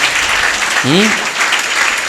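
An Easter service congregation applauds in a steady, crowded clatter of clapping from start to end. A short voice briefly rises above it partway through.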